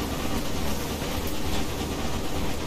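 A train rolls along in the Railway Empire video game, a steady, continuous rumble of wheels and rail noise heard close and loud, with no voices over it.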